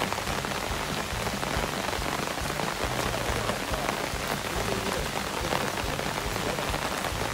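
Steady rain falls at a zoo in Saitama, Japan, a dense, even patter of raindrops on surfaces that stays constant and fairly loud, with no talking.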